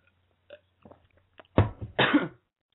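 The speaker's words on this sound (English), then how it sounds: "Let me just clear my throat." A few soft throat sounds, then two harsher, louder rasping throat clears close up, with silence in between.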